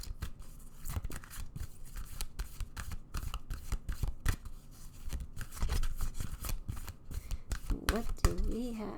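Tarot cards shuffle in rapid, papery riffles and slides, close and fairly quiet, in uneven bursts, with a voice briefly heard near the end.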